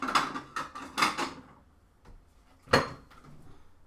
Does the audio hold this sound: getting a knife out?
yes